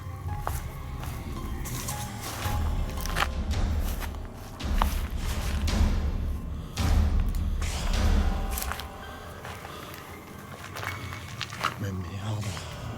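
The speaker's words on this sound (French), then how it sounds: "J'entends des putains de bruits de pas," Footsteps in a reportedly haunted, empty place: repeated shuffling, thudding steps with a near, muffled quality, mixed with rustling and a voice talking over them.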